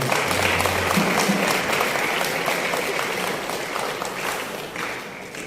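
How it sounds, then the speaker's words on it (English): Audience at a Lagos ceremony marking a 200-year anniversary with Brazil applauds an honored guest, a full, close wash of clapping that stays steady and tapers slightly near the end. "Please, a resounding round of applause for him"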